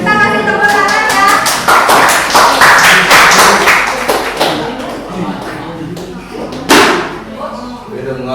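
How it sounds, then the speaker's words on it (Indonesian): A classroom applauds the first presenting group with a burst of loud, dense clapping that thins out into scattered claps, with voices talking under it. "Kita kasih tepuk tangan ya."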